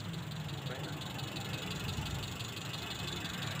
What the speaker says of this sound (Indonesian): ini kondisinya sudah hidup lur mesin ini juga terjadi nyendat dan pincang